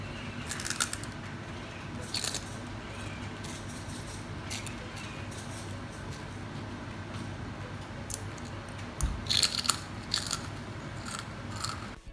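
Crisp bites and crunchy chewing of homemade pork cracklings (chicharon), close to the mic, with several sharp crunch bursts separated by quieter chewing over a low background hum.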